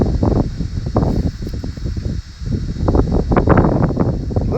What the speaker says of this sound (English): Little wind just came up here.